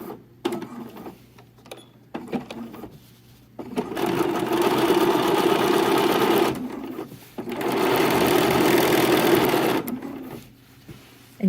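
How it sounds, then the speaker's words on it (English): A sewing machine double top stitches the fly of pull-on jeans, running in two long steady whirring bursts of several seconds each, close and clear, with short starts and handling sounds around them. "Stitching and do our first row."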